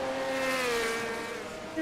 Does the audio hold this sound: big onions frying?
no